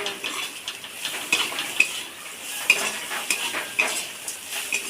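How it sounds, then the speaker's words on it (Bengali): Onion, ginger and garlic frying in oil in a pan for a kachu shak and prawn dish, with steady sizzling, a spoon scraping and stirring, and sharp metallic clinks against the pan at intervals, close and moderately loud. "তেলের উপরে দিয়ে এরকম ভালো করে ভেজে নিতে হবে"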